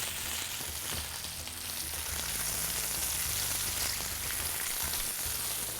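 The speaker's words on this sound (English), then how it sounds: "Now our potatoes have been cooking away there." Potatoes frying in a pan for a Spanish tortilla make a dense, constant sizzle, close and even throughout without any talk.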